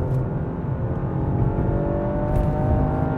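A Toyota GR hot hatch cruising along an open road on a trip through Wales, its engine giving a steady, loud drone with tyre and wind roar throughout and no talking.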